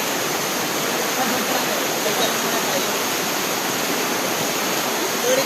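A fast-flowing river rushes beneath a bridge, a loud, steady, unbroken wash of water noise that fills the whole moment.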